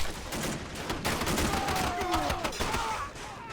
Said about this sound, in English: Oh geez, 2 machine guns like that, even 3 in such a small vicinity.